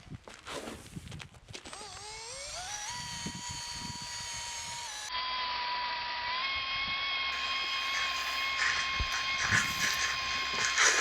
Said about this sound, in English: a wheel, eraser wheel they call it. So like a rubbery wheel.